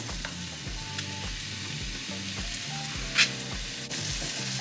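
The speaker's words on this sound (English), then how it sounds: "We got our onions and I'm going to add them to the pan." Onions hitting melted butter in a pan, giving a continuous close sizzle with a few light utensil clinks and a single sharp tap partway through.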